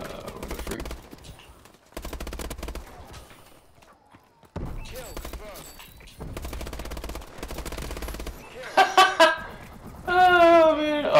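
Rapid automatic gunfire from Call of Duty Advanced Warfare comes in several sustained bursts separated by short pauses, ending with electronic game tones and effects.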